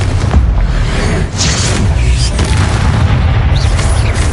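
Deep booming blasts from the Confringo fire spell in the Hogwarts Legacy video game, a loud, dense run of overlapping explosions and rumble that barely lets up for a few seconds.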